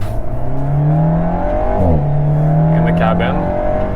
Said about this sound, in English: I think they have done a good job of getting the engine sound as good as it can get, provided that there is only a 4-cylinder engine